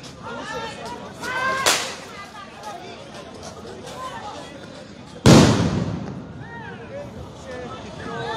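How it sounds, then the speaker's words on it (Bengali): Police sound grenades thrown at protesters near the parliament building in Dhaka, two sharp loud bangs several seconds apart, the second louder, over a noisy crowd with chatter and whistling. "পুলিশ আসলে সাউন্ড গ্রেনেড নিক্ষেপ করে কিন্তু তাদের ছত্রভঙ্গ করে দেওয়ার চেষ্টা করছে"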